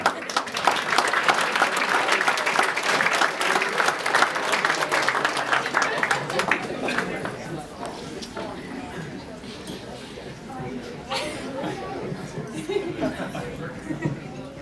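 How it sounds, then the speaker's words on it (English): A wedding crowd gives a big round of applause for the father of the bride before his toast, dense and loud clapping for about six seconds that thins into chatter and a few lingering claps. "Big round of applause for him."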